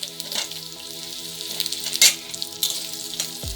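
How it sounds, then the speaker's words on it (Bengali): Potatoes sizzling in hot oil with onion in a pan for Bengali muri ghonto, a close steady crackle broken by a few sharp stirring scrapes and a clink near the end. "আলুটাও হালকা ভাজা ভাজা হয়ে যাওয়ার পরে আমি এর মধ্যে চালটা অ্যাড করব।"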